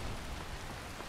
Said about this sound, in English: I guess we're going to travel in the rain